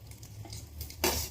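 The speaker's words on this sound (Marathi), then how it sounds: "थोडंसंच घालणार आहे कारण उभा चिरलेला पातळ कांदा आहे की नाही तो टाकला." Thinly sliced onion drops into hot oil in a kadai, setting off a loud, close sizzle that jumps in level and holds steady, following softer stirring and pan noises.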